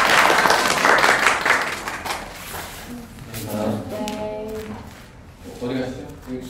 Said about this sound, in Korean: 자, 그럼 우리 박수로 마무리할게요.